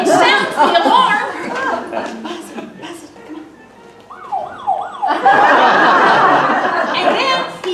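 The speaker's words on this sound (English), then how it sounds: "he runs and sounds the alarm" A wailing emergency siren sounds at a circus, a rising-and-falling tone rising from a busy mix of voices and chatter, then giving way to a loud burst of crowd noise and laughter.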